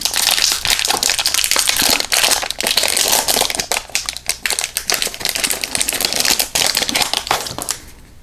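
A Topps Heritage trading card pack being torn open, continuous loud crinkling and tearing of the foil wrapper up close, with dense rustling bursts and no speech.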